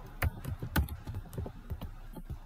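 Keys on a computer keyboard are tapped in a quick, irregular run of soft, close clicks, with no talk over them.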